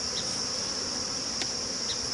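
Honey bees drone in an opened hive during autumn inspection, a steady high buzzing hum filling the space, with occasional individual bees flying close past.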